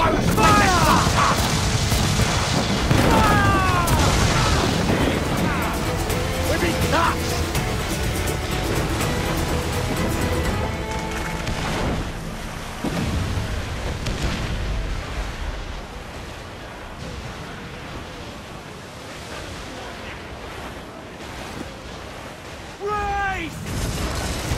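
Heavy booming cannon fire and crashing from pirate ships in the video game Assassin's Creed Black Flag, loud and dense over surging sea noise, with voices shouting over the battle.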